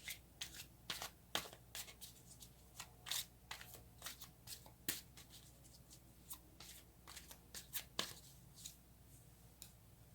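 Tarot cards shuffled and drawn by hand close up: quiet, rapid riffles and slaps in uneven bursts throughout, with no talking.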